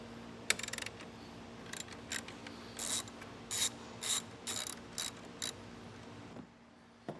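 A ratchet wrench with a 13mm socket tightens a nut and bolt on a plate for a battery disconnect setup, giving several short bursts of rapid clicking separated by pauses, close and clear.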